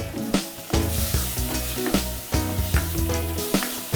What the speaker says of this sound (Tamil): இப்போ தக்காளி வதங்கிருச்சு.